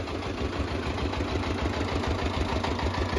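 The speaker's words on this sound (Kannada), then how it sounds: "ಕಬ್ಬಿನ ಹಾಲು ಮಾರೋ ಗಾಡಿ ಇದು ಹೇಗಿದೆ ನೋಡಿ." A sugarcane juice vending cart's engine runs steadily and loudly nearby, a continuous rumbling drone with a rough, pulsing texture and no pauses.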